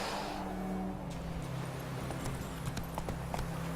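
Horse hooves clip-clop steadily in The Witcher 3 video game, a repeated rhythmic clatter of footfalls over a constant low game ambience and hum, fairly near and moderately loud, with no talking.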